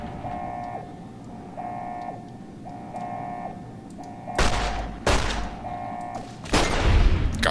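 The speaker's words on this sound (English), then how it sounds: "Do you mind stop hitting me with your bloody grenade launcher" Grenade launcher explosions in Fallout: New Vegas, three loud broadband blasts bursting in the second half, over a repeating electronic beeping tone and low ambient game noise.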